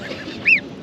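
A single goose honk rings out nearby in a Buenos Aires park where geese and ducks gather, one short nasal call over faint outdoor background.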